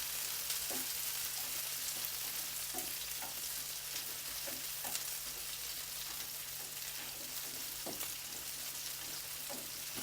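Onions and curry leaves sauté in a pan for a traditional fish curry, giving a steady sizzle throughout with scattered soft stirring clicks and scrapes, close and even, with no talking.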